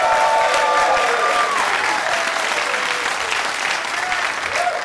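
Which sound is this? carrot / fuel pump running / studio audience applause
studio audience applause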